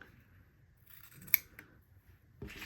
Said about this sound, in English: this is a good time to trim off any overhang from your zipper tabs